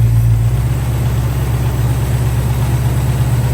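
A 1968 Plymouth Barracuda's 318 V8 engine idles with advanced timing, a steady, deep rumble and a slightly uneven lope, loud and close, with no voices.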